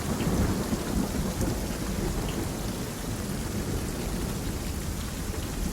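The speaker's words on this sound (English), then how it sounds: "Great thunder again." Deep thunder rumbles continuously through a steady downpour of heavy rain.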